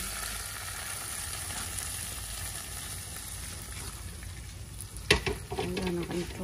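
Garlic and chili for a Vietnamese sour soup sizzle in hot oil, a steady, moderately faint frying hiss, followed near the end by a clatter and stirring noises.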